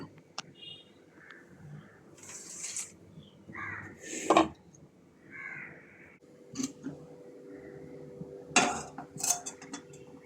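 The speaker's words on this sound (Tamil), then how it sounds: "ஸ்டவ் ஆன் பண்ணி சட்டி அடுப்பில் வச்சாச்சு" A metal pan clanks onto a stove a couple of times while cooking nethili (anchovy) aviyal, with crows cawing faintly outside.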